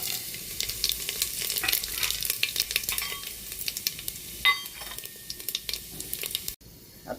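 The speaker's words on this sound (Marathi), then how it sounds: "आता आपलं तेल गरम झाले, त्याच्यामध्ये हे बघा हे सगळा खडा मसाला टाकून घेऊ" Whole spices frying in hot oil inside a pressure cooker on a gas stove, a dense crackling sizzle with rapid pops and occasional stirring scrapes, steady and close, ending in a sudden cut.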